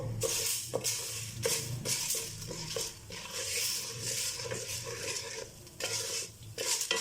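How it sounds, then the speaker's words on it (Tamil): White urad dal fries in oil in a pan, giving a continuous soft sizzle broken by repeated scraping and stirring strokes of a spoon against the metal, with no talking. "ஆயிலில் போட்டு ஃப்ரை பண்ணிக்கலாம்"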